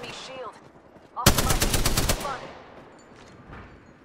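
A rapid burst of automatic gunfire in the video game Apex Legends rattles for about a second amid game background noise, followed by fading echoes.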